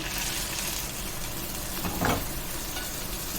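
Tender tamarind leaves frying in oil for a mutton head curry give a steady, moderate sizzling hiss, with a brief swell of stirring near the middle and a sharp click at the very end.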